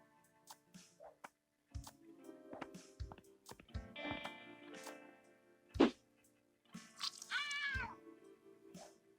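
A cartoon cat in the point-and-click game Randal's Monday meows and yowls unhappily after being given a shower, with several short cries and a louder rising wail near the end, mixed with small game sound effects.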